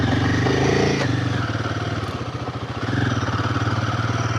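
Royal Enfield Himalayan 450 motorcycle pulling away in first gear, its engine note loud and close with a steady pulsing thump that dips briefly and then builds again as it accelerates.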